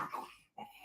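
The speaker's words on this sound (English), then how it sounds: "Let me just control my dogs." A dog at home makes a short, rough, throaty huff or grumble, then a brief pause and a second softer burst, close and fairly quiet, with no talking.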